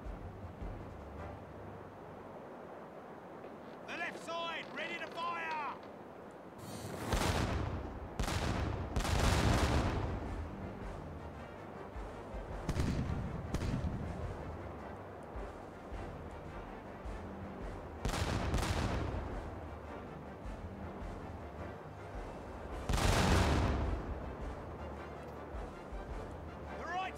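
Heavy ship cannons boom in repeated volleys during a naval battle in the video game Caribbean Legend, loud explosive bursts with rumbling decay separated by quieter stretches, a voice briefly heard between shots.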